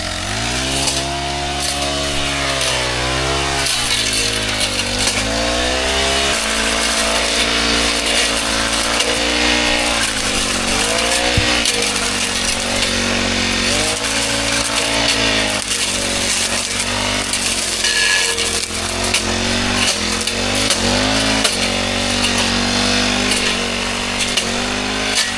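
A loud machine cuts down large trees with a continuous roaring engine drone that rises and falls in pitch as the blade bites into the wood, close and unbroken for the whole stretch, with no voices over it.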